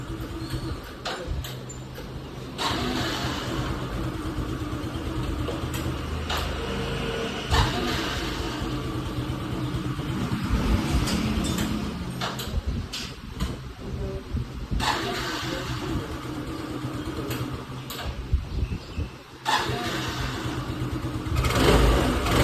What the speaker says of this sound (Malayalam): പ്ലഗ് നമ്മൾ ഇട്ടിട്ടുണ്ട് എന്നിട്ടൊന്ന് സ്റ്റാർട്ട് ചെയ്ത് നോക്കുകയാണ് എന്തെങ്കിലും മിസ്സിംഗ് ഉണ്ടോ ഇല്ലേ എന്നുള്ളത്